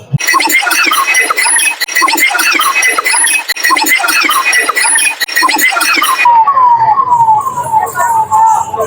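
A noisy, busy crowd at the Puri Rath Yatra festival bustles until a fire brigade or ambulance siren cuts in, sounding a rapid series of falling whoops, loud and close.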